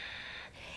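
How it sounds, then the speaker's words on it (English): Breath pushed out through the nose during a guided yoga breathing exercise, a soft airy rush running almost a second with a slight dip midway, close and moderately quiet with no talk over it. "Exhale through the nose."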